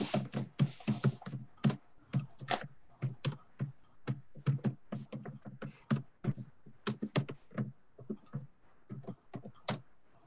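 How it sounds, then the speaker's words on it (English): Rapid typing on a computer keyboard, irregular bursts of close clicking keystrokes with short pauses, fairly quiet and heard alone with no talking. "I hear some of the typing."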